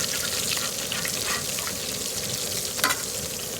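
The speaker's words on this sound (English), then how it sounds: "Might make it taste better deep frying them like that." Pork patties deep frying in hot grease on a Southwest disk cooker give off a steady, dense sizzle and crackle close by, with a brief louder burst of spattering near the end.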